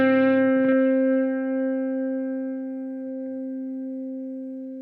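One sustained note from a PJD St. John Elite electric guitar rings out after a brief pick attack, holding steady and slowly fading over several seconds, clean and alone.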